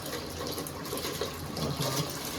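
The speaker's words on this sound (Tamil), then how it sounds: "தண்ணி கொதிக்கிது பாருங்க" Water at a rolling boil in a cooking pot for chicken biryani, a steady dense bubbling and gushing hiss that stays fairly even and close throughout.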